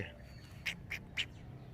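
Ducks quack three times in quick succession, moderately close, beside a Roman-style fountain at a cafe, over a low steady background hum.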